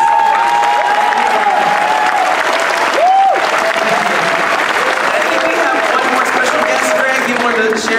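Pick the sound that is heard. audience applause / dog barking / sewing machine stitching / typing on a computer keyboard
audience applause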